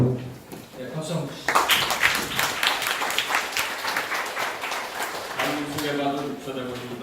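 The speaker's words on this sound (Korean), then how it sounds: "박수 한번" Audience applause breaks out at a Korean constitutional-reform forum as a professor emeritus is introduced, a dense burst of clapping that follows a man's spoken introduction and fades as talk resumes.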